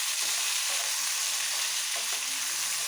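Vegetables sizzle and fry in a pan, a loud, continuous crackling hiss with occasional soft stirring scrapes, close and with no talking.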